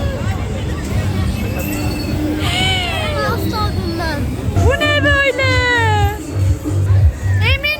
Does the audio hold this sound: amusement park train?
yes